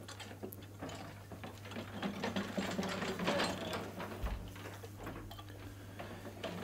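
A lithographic printing press prints from a litho stone, running with a continuous clatter of gears and ticking, ratcheting mechanisms. The machine is heard alone at moderate volume, with no speech.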